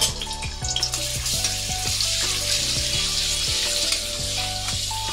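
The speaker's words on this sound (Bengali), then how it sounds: "তো প্রথমে কড়াতে আমি সামান্য একটু সাদা তেল দিয়ে দিলাম, ওর সাথে দিয়ে দিলাম খানিকটা বাটার।" White oil and butter sizzle steadily in a hot wok, a dense continuous frying hiss with faint clinks of a utensil against the metal, loud and close with no voices.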